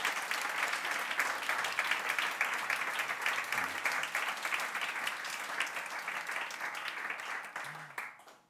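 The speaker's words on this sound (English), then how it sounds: "Could we give two rounds of applause?" An audience at a church talk applauds loudly and steadily for several seconds, the clapping thinning out and fading at the end.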